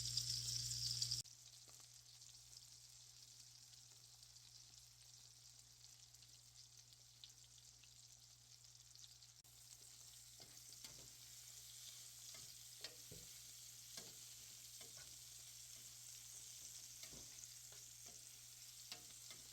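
Apples sprinkled with brown sugar fry in a pan for an apple and pork chop dinner, giving a faint, steady sizzle with occasional soft stirring clicks and ticks throughout.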